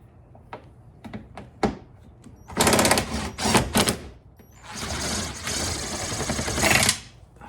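A 10 mm tool works a bolt loose on a 2017+ Ford F250 PowerStroke 6.7, heard as quick close clicks followed by bursts of rapid ratcheting, fairly loud and without talk.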